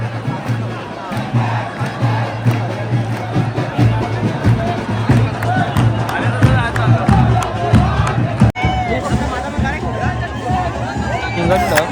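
Dense crowd noise at the aarti ceremony of the Ekvira palkhi procession, with continuous babble, shouts and cheering, loud and steady throughout, one sharp knock near the end.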